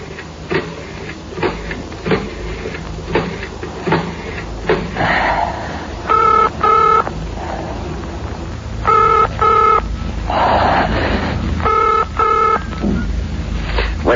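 An old-fashioned telephone is dialed in a vintage radio drama scene, with rapid clicking pulses from the rotary dial, followed by repeated short buzzing ring bursts, close and fairly loud.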